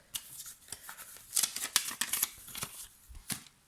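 Scissors snipping through a sheet of cardstock at a craft table: a run of short, crisp close cuts, some louder than others, irregularly spaced with brief pauses between.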